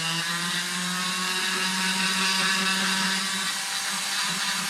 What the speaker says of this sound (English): how fast that coarse grit really shredded up that black walnut